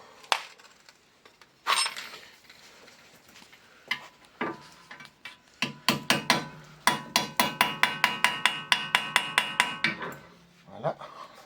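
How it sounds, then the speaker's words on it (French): A hammer strikes a drift into the rusty wheel-bearing hub of a Golf 6 1.4 16V. A few scattered metallic blows build into a rapid, regular run of sharp, ringing hits close by. "je vais frapper l'embout dedans"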